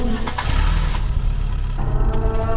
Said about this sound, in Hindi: 1 बार, 2 बार, 3 बार इंजन की आवाज आती और बंद हो जाती।